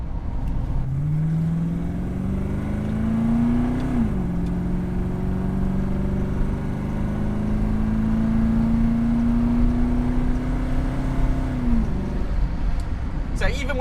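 A DeTomaso Deauville engine accelerates hard from inside the car, revs climbing steadily, then one upshift and another long pull, with a voice talking over it.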